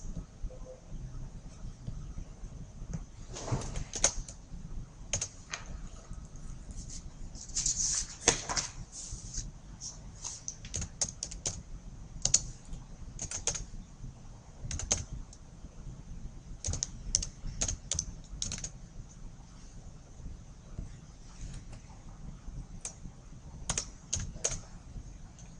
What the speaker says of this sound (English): start type the title of the table and add all the data inside it